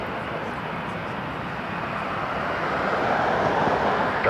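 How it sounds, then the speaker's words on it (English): An Airbus A320 touches down on runway 24 left at Toronto Pearson Airport, heard from a distance as a steady, broad engine roar that swells slightly toward the end. "Following a 320, they're just touching down to the land runway at 24 left."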